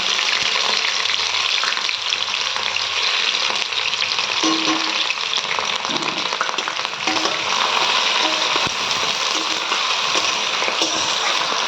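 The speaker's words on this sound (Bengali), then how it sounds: "পেঁয়াজটা দিয়ে পেঁয়াজটা লাল করে নেব" Onions fry on high heat in a pan for chicken pulao, a dense, continuous sizzle that stays loud from start to finish, with occasional faint stirring scrapes.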